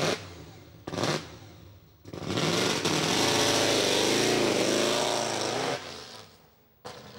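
A pre-war Mercedes-Benz W125 racing car's 5.6-litre supercharged 8-cylinder engine roars loudly and steadily at Goodwood, revving high with brief dips between bursts, close by and with no talking.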